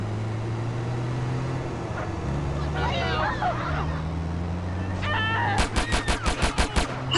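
Gunfire in the video game GTA San Andreas: a rapid volley of about eight loud, evenly spaced shots near the end, following a steady engine drone and scattered game sounds, with a voice talking over parts of it.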